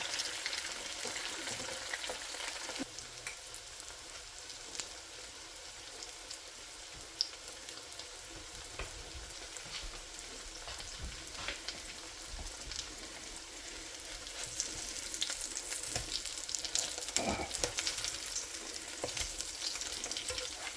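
Salmon cakes coated in panko crumbs frying in a pan: a dense, steady hiss of sizzling oil lasting throughout, with occasional faint clicks and crackles.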